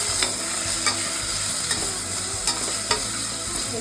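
Potatoes being stirred into a sizzling frying pan while cooking paneer pulao, a steady close sizzle punctuated by regular spoon scrapes and clacks roughly every second.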